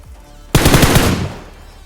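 Automatic gunfire in the BGMI mobile video game, a single loud burst of rapid shots lasting under a second, then a fading tail, with no talk.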